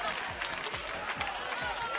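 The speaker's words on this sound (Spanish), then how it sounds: "También la ovación, claro que sí." A crowd at a televised summer Grand Prix game show between two towns applauds, a distant and fairly faint ovation that goes on steadily under a voice.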